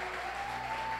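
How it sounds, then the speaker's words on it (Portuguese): Congregation applauding inside a church during a deacon ordination service, a short steady burst of clapping from many hands. "Você pode aplaudir ao Senhor?"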